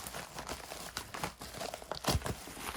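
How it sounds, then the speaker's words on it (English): Scissors cut into a cassette game package, with close crinkling and tearing of plastic wrap in irregular snips and crunches. "Just going to need the scissors here to cut in."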